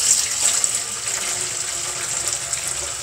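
Boiling water poured into a dye pot, a steady close rush of liquid that holds constant for about three seconds with no talk.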